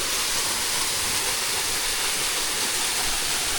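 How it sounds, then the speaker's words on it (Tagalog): Strong waterfall pouring with heavy force, a loud, steady broadband roar of rushing water that fills the scene without pause. "kung makikita nyo, ang lakas pa rin ng falls"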